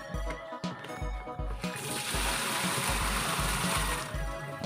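Water poured by hand into a Panasonic single tub washing machine that will not drain, a steady splashing stream following a few soft knocks and clunks.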